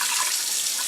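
Roughly a cup of water pours steadily down into the bottom of an Instant Pot, a continuous close splashing hiss with no talk.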